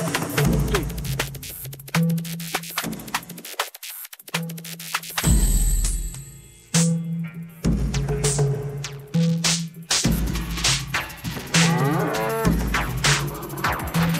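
Cow moos sampled into a hardcore electronic track, repeated over pounding low beats and harsh static-like synth layers, with brief drops in the mix and loud dense sound throughout.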